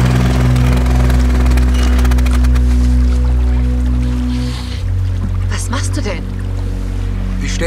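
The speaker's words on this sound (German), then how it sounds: "Nur den Motor aus." A boat motor drones loudly and steadily with a constant low hum throughout, joined by splashing and choppy water noise, with voices speaking over it.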